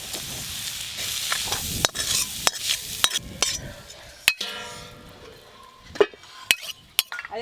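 Fenugreek greens stir-fried in a pan over a village clay stove, with a soft sizzle broken by sharp utensil clinks and scrapes against the pan at irregular intervals, close by and without talk.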